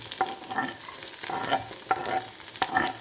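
Chopped ginger and garlic go into hot oil after the mustard seeds have popped, as the base for an egg roast. A soft, steady sizzle runs throughout, with scattered crackles and the clink of stirring.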